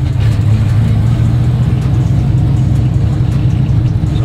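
The engine of the sequential burnout truck drones loudly and steadily close by, a deep continuous rumble held under throttle with no voices.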